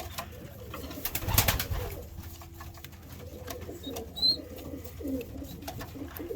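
A Veenstra cross cock pigeon coos softly in its loft, a few low throaty rolls spread across the moment, with faint shuffling and a brief louder clatter in the background.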